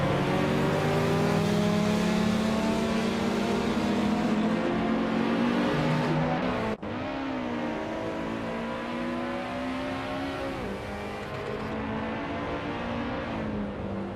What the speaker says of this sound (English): Kingo McCringleberry is driving a vintage street car, a 1935 Bugatti Type 57 Air Lalai.